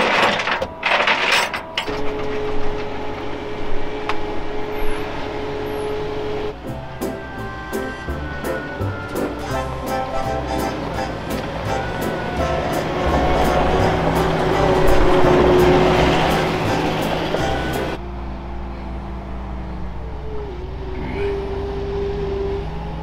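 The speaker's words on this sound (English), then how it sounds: "We'll drive the skid loader in." A skid loader drives in toward a Chevy stuck in a mud pit, its engine a steady rumbling drone that grows louder midway and then eases off, with no talking.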